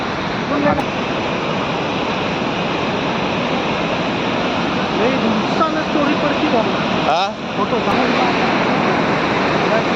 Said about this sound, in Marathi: इतका मोठं वरून पाणी खाली जाते की त्याचे शहार इथपर्यंत येतात